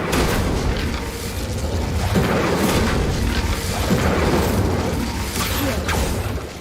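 Fire spell cast in Hogwarts Legacy, a loud booming burst of game magic with rumbling whooshes and mechanical clanks, sustained dense effects across the whole stretch, no talk.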